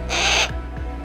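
A female falcon or Harris hawk kept for gull control on a Jersey Shore beach lets out one loud, harsh screeching call, followed by a short quieter tail of faint sounds.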